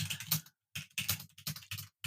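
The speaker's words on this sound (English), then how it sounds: "It sounds like a real keyboard." Rapid keystrokes on a cell phone's virtual keyboard click in short bursts with brief pauses between, crisp and close like a real typewriter keyboard.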